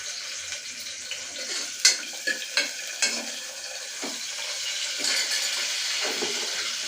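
Cumin, mustard seeds and chopped onions fry in hot oil for a pea curry, a steady close sizzle broken by several sharp clinks and scrapes of a spoon stirring the pan, with no voices.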